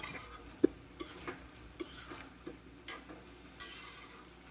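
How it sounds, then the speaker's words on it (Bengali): Shrimp curry with flat beans being stirred and sautéed in a pan to cook down into a thick, dry masala, with faint sizzling under a series of spoon scrapes and taps against the pan, close and fairly quiet. "ভালো করে কষিয়ে নিতে হবে, যেহেতু আমি এতে খুব বেশি ঝোল রাখবো না"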